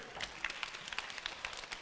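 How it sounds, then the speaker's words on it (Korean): A small group claps at a church youth service, a quick, light patter of scattered handclaps heard faintly at a distance for a couple of seconds. "박수"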